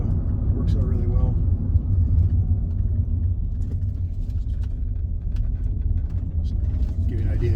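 A 2008 VW Beetle converted to electric drive accelerates, giving a steady low road rumble and hum from inside the car, close and continuous with no gear changes.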